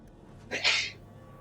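A single short sneeze from a character in the Dragon Age 2 video game, a sharp breathy burst standing alone against a quiet background.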